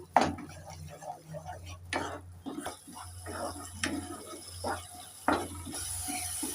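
A spoon scrapes and clanks in a pan while egg-brinjal curry with yogurt and mustard-poppy paste is stirred, giving a few sharp metallic knocks over a soft low hum at moderate, close range.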